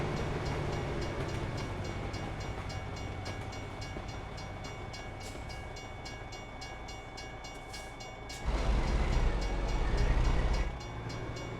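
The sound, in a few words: methane freight train passing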